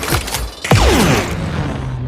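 Two sharp gunshots from a shotgun in the Malayalam film Padakkalam crack close and loud, each trailing into a descending ringing sweep, with a lingering hum afterward.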